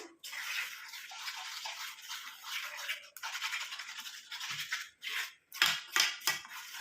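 Henna and indigo hair dye paste is stirred in a bowl, a soft wet scraping and swishing in bursts with short pauses, close and fairly quiet.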